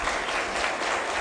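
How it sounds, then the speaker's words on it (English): An audience applauds at a public forum on Caribbean constitutional reform, a steady, dense clapping that holds evenly through the short stretch with no voices. "Please applaud them."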